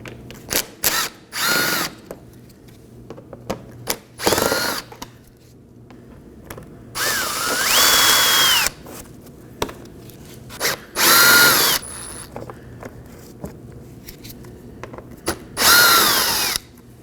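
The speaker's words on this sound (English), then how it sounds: "I'm going to make our way under the vehicle and locate these 5 Phillips head screws and remove these." A power drill removes Phillips head screws beneath a Nissan Maxima in short, separate whirring bursts, some longer spins rising in pitch, with quiet handling and clicks in between.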